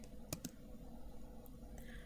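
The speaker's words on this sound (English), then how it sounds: "It's on a typewriter." A handful of faint typewriter key strikes, two quick clicks close together and a couple of softer taps later, in an otherwise quiet room.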